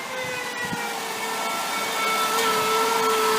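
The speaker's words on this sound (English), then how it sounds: "this whining noise is coming from the bearing that's inside that alternator" A worn bearing in the alternator of a running Dodge Caravan gives a steady high-pitched whine over the engine's hum, close and loud, growing slightly louder toward the end, with no talking.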